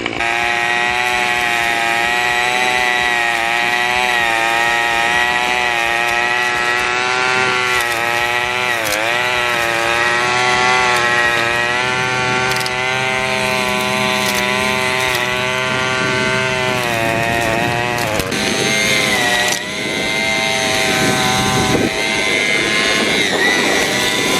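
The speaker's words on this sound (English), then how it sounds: "So the trimmer only spins when you pull the trigger there." Cub Cadet BC 280 gas string trimmer running steadily with a loud, buzzing two-stroke whine, pitch wavering slightly as the throttle shifts, then dipping briefly near the end.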